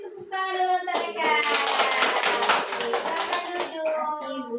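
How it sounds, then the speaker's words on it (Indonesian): Children in a classroom clapping together, a dense burst of applause rising quickly and holding steady, with young voices mixed in. "Beri tepuk tangan dulu untuk mereka."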